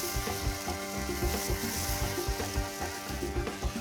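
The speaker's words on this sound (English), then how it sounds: "the sizzling's telling me that it's nearly ready to turn" Meat sizzles steadily on a barbecue grill during a reverse sear, a loud, close, continuous crackle and hiss with no voices.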